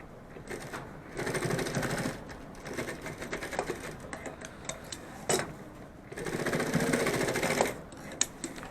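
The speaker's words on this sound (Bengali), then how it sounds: "এই পাশটাও সেলাই করে দাও" A sewing machine stitches the side of a cloth pen pouch in two loud rapid bursts of clattering needle strokes, separated by quieter handling clicks and ticks.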